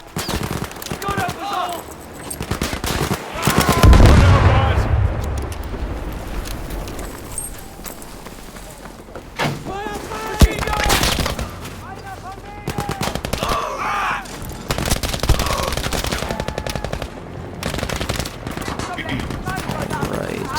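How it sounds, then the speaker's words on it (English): Rapid machine gun fire in the Battlefield 5 video game, loud repeated bursts over about twenty seconds with other gunshots and battlefield noise, and a voice talking at times. "We got some machine guns up here."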